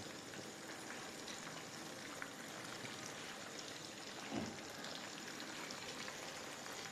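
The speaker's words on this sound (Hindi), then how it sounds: "इसको पहले हम हाफ़ फ्राई कर लेंगे, उसके बाद इसको फिर फ्राई करेंगे हम" Chicken pakoras half-frying in oil over a normal flame, a steady, faint, even hiss of bubbling without pause, with one brief soft knock partway through.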